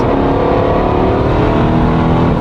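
A Mercedes SL63 AMG engine with Weistec downpipes, upgraded turbos and a water-meth kit roars steadily at high revs, loud and close, a deep continuous growl with no voices.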